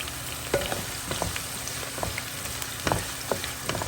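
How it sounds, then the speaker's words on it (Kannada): Onions frying in a pan, a steady close sizzle with intermittent scraping knocks of a spatula stirring, no talk. "ಈರುಳ್ಳಿ ಸ್ವಲ್ಪ ಕಲರ್ ಚೇಂಜ್ ಆಗುವವರೆಗೆ ನಾವು ಇದನ್ನು ಹುರ್ಕೋಬೇಕು"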